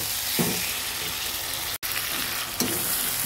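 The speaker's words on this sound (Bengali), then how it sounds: "ম্যারিনেট করা মাংসটা দিয়ে দিলাম। এবার সুন্দর করে ঢেকে কষিয়ে নেব।" Marinated mutton fries in a pan for a Bengali-style mutton curry with potatoes, giving a steady, close sizzle broken by a few stirring scrapes and one brief dropout midway, with no talking.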